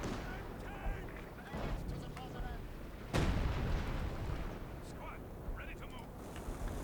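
Artillery fire in Company of Heroes 2 with booming impacts and a sharp, heavy blast midway, set among a rumbling battlefield with scattered smaller bangs while a voice talks over it.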